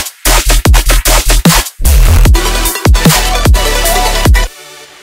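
A dinosaur-style dubstep bass synth built in Serum plays in a full mix, with loud, heavily distorted growling bass stabs in choppy bursts over thumping drums, then a longer sustained roaring section that cuts off abruptly.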